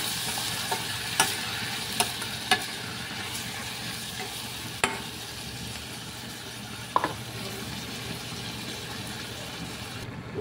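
Shrimp sauté in butter with onion and garlic in a pan, giving a continuous close sizzle with a few sharp utensil clicks against the pan at irregular moments and no voices.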